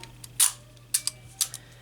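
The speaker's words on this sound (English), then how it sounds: "this is very easily displayed just by winding the camera" Zeiss Ikon Contaflex 2 camera being wound by hand, a series of sharp, close mechanical clicks and ratcheting ticks in short irregular bursts, alone with no talking.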